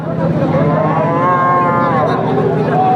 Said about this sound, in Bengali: সার গরু দেখতে পাচ্ছেন